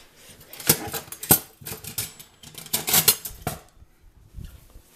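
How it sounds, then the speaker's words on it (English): A spatula scraping and breaking up a tray of baked chocolate chip cookies, giving a series of close, sharp clattering scrapes in uneven bursts with short pauses between them. "You get a spatula and you just break them up."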